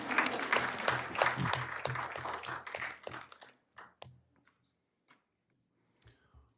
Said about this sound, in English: You can give her applause.